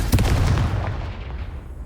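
A sharp blast from the Confringo spell in Hogwarts Legacy, a single punchy boom with a crackling burst that decays over about a second and a half, close and loud with no talking.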